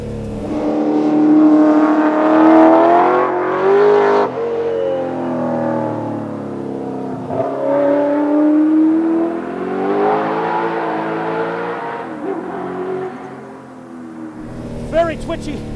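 A 1960s Ford Mustang historic race car engine howls on a race track, loud and close, rising and falling through revs and gear changes for the whole stretch, with a brief voice near the end.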